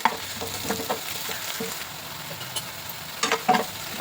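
Onions and ginger paste fry in a pan for paneer masala with a quiet, steady sizzle, while occasional light spatula scrapes and clinks come close by and cluster toward the end.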